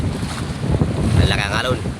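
Strong gusting wind roars over a boat out at sea, a dense continuous rush of air and water with muffled microphone buffeting and a faint voice underneath.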